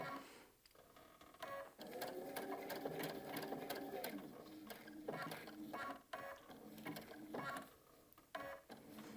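A home sewing machine stitches around a beginner quilted table runner in bursts of rapid, rhythmic needle chatter. It starts and stops several times at close range while someone talks quietly in between.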